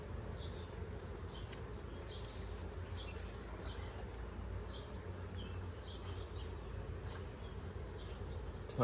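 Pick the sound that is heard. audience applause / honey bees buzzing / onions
honey bees buzzing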